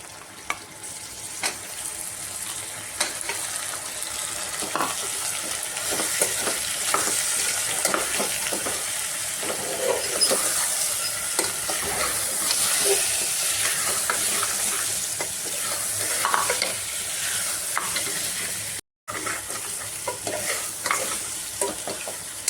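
Mutton bones fry with turmeric in a pot for a bone soup, a continuous close sizzle broken by scraping stirs and clinks, briefly cutting out near the end, with no talking.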